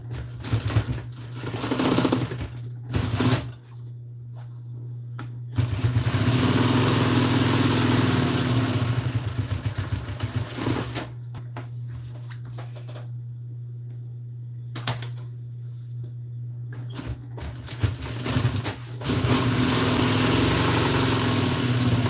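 A sewing machine stitches lawn furniture seat upholstery with a steady motor whir, running in long bursts separated by quiet pauses, close and fairly loud.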